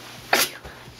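A single sharp, breathy sneeze bursts out close by in a cold indoor setting, with soft breathing before and after.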